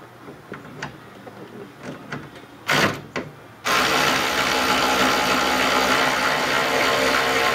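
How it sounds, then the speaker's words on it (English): An air-powered wrench removes the metal retaining pieces of a car's soft top. A few short bursts come first, then the tool runs loud and steady for several seconds, close by and with no talking. "I'm going to use my power wrench that I use, so I'm going to go ahead and do that"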